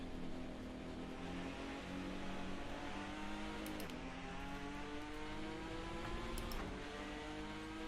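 Corvette C8R race car engine in Assetto Corsa holding a steady, buzzing drone with gradually shifting pitch, continuous and fairly loud throughout, with brief gear-change dips and no talking.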